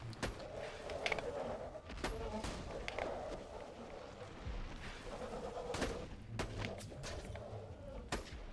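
Gunfire in the video game Borderlands 3: sharp shots crack at irregular intervals over a steady background of game sound, with some clustered bursts. Faint voices talk beneath them.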